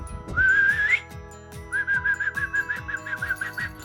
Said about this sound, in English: We go whistle for the dog.